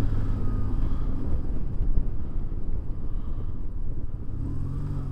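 BMW R1150GS boxer-engined motorcycle being ridden on a test ride, a steady low rumbling engine note with wind buffeting, moderately loud and continuous with no voices.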